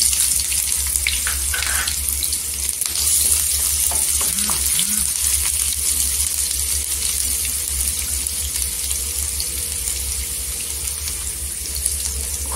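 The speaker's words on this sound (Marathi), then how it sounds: "इथे लसणीचा गोल्डन कलर झालेला आहे. तर कांदा टाकून घ्यायचा." Chopped onion tipped into garlic already fried golden in hot oil, giving a steady, close, broadband sizzle that runs the whole time with a few soft stirring scrapes and no voices.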